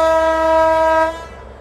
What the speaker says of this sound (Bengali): দেখুন, ট্রেন পথ দিয়ে একটি অন্য রকমের গাড়ি যাচ্ছে।